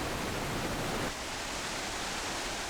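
The roaring water of Iguazu Falls in Argentina pours as a dense, unbroken rush, loud at first and then easing slightly after about a second while staying continuous.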